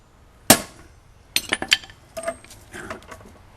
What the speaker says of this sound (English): You're going to take a hammer and you're just going to strike this as hard as you can.